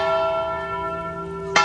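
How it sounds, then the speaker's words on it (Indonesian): Kremlin church bells in Moscow ring with a sustained, resonant tone and long humming overtones, loud and close, with a fresh strike near the end and no voices. "Jauh di Moskow, lonceng Kremlin berdentang."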